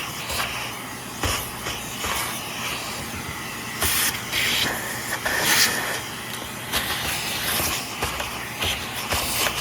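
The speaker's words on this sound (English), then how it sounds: "I'm just going to take this over to my air compressor and we're going to blow this out real fast" An air compressor nozzle blows out a Shark Zero M vacuum brush roll in loud hissing bursts of varying length, separated by brief pauses and shuffling handling noises.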